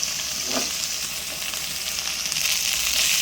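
Ginger garlic paste sautéing in a pan for an egg drop gravy, a steady close sizzle and frying hiss throughout with a brief stir or clink near the start, no talk.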